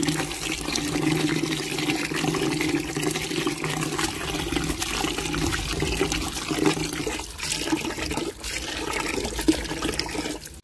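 Steady rushing water pours continuously into a container, a constant splashing flow with no voices.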